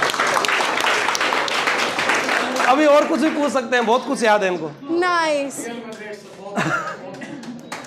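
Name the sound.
audience applause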